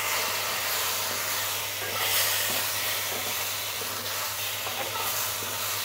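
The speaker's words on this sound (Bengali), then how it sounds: "এখন এর মধ্যে আমি জলে গুলে রাখা লঙ্কাগুলো দিয়ে দিচ্ছি" Chilies soaked in water tipped into a pan of fried potatoes, giving a steady, dense sizzling hiss that holds evenly throughout with a slight swell near the start.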